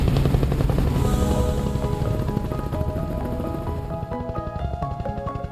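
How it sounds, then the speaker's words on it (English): Rhythmic thudding chop of a helicopter's rotor in flight over rugged Australian landscape, loud and close, steady at first and easing slightly toward the end. "The helicopter ride is exhilarating."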